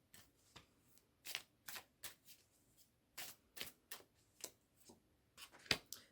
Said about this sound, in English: I feel called to pull another card around how we're working with this energy this week.